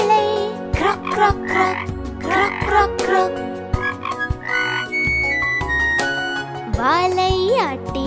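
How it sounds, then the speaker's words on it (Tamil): Cartoon frog croaks in a Tamil children's rhyme, repeated ribbity calls alternating with a child-like sung voice over a bouncy musical backing. "சின்ன தவளை குட்டித்தவளை, சின்ன வாலுள்ள குட்டித்தவளை."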